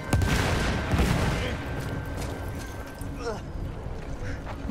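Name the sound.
machine guns firing in video game Battlefield 1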